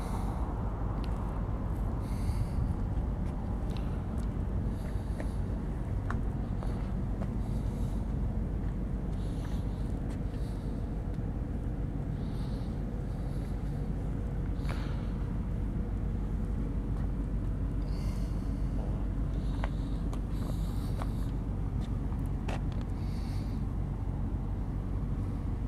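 Low, steady rumble of a 1957 Chevy 210 fitted with an LS-1 V8, running continuously at a show-car idle for the whole stretch, close and fairly strong with no talk over it.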